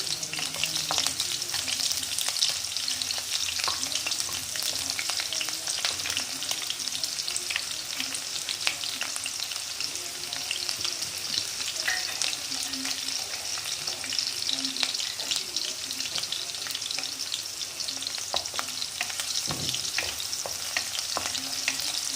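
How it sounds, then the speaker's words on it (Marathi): Finely chopped onion fries in a pan for Maharashtrian matki usal, a steady close sizzle running throughout with frequent scraping stirs and occasional clinks of the spoon, no voices. "कापलेला कांदा टाकूया। त्याला परतून घेऊया आपण।"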